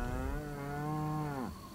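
Cow in the video game Postal 2 letting out a single long, low moo that holds steady and then drops off at the end, close and clear.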